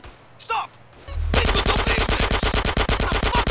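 Rapid automatic gunfire from GTA 5, a long burst of loud, evenly spaced shots ringing close and alone after a brief quieter stretch with a short noise.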